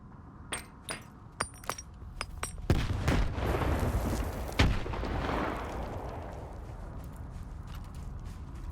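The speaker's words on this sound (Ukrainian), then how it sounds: "Так як я не палю, я кину гранату." A grenade explodes in the video game S.T.A.L.K.E.R. 2 near a swamp by a tunnel, a heavy booming blast with a long rumbling decay, followed by a second sharp burst, after a few earlier clicks and thuds.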